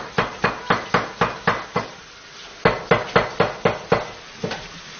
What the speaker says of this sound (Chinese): 你听那个切菜的声音